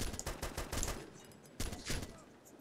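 Rapid gunfire in ArmA 2, bursts of fast repeated shots rattling in quick succession with a brief pause then another volley, moderately distant and fairly quiet.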